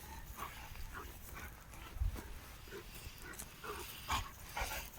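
Old German Shepherd dogs outdoors, a few faint scattered barks and whimpers over a low wind-like background.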